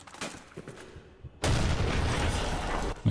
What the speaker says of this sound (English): he's going to blow up this barrel here. Which we should hear in the distance